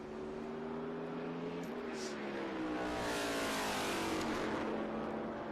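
Trans Am race cars at Circuit of the Americas roar past in a loud, continuous engine howl, with pitch shifting as they brake and accelerate and a burst of louder roar partway through.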